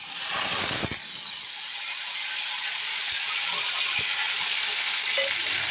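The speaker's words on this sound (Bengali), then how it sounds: "ওই ফাঁকে আমি আলু ভাজা বসিয়ে দিয়েছি" Potatoes frying in a pan, a loud, steady broadband sizzle that holds throughout, with a single clattering knock near the start and a few faint taps later.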